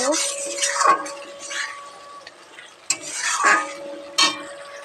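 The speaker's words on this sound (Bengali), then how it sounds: "টমেটোর কুচি দিয়ে দেব এটাকে ভালো করে নাড়তে থাকবো" Chopped tomato being stirred into a rupchanda fish curry in a pan, with a spatula scraping and knocking against the pan in a few sharp strokes over a light sizzle while someone talks.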